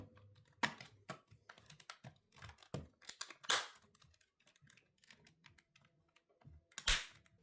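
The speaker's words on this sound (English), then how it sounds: "Clip it all back into place." Plastic rear cover of a Steam Deck being pressed and clipped back into place, heard as scattered faint handling rustles broken by a few sharp, close snaps.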